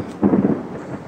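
A short, low rumble of thunder heard from inside a small car, a brief muffled boom with a soft tail of rain noise.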